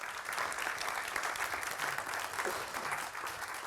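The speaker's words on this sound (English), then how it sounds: "give our judges a preemptive round of applause to thank them for their work" An audience at a FameLab International science-communication semi-final gives the judges a round of applause: a steady, even wash of many hands clapping, heard somewhat distant and soft, with no voices over it.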